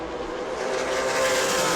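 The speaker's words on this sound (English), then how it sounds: "Now Butcher's going to have to deal with that same traffic as your race leader." Stock race cars at New Smyrna Speedway roar through a steady, loud wash of engine noise, a dense sustained drone that swells slightly toward the end with no individual pass standing out.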